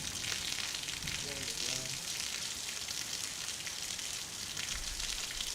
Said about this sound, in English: it's raining like ass outside.